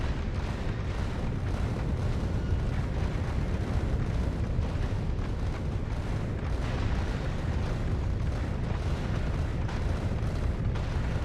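Rocket explosions in the video game Factorio: Space Age form a dense, continuous rumble of booms and blasts, loud and unbroken throughout with no talk.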